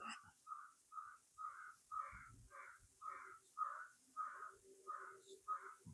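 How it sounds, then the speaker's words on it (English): A crow caws about ten times in a steady, evenly spaced rhythm, clear but somewhat distant, with no talking. "the crows are having a blast out there this morning"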